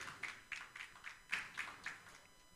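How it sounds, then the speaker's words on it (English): Faint, evenly spaced hand claps from an audience at a development association ceremony in Osun State, about nine distinct claps in a steady rhythm. "Please a round of applause for him."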